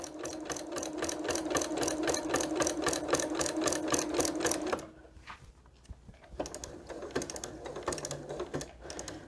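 Sewing machine stitching a fabric place mat in a fast, steady run of needle strokes, close, pausing briefly midway, then resuming in shorter, slower bursts.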